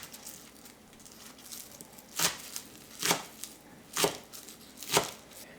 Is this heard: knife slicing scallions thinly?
yes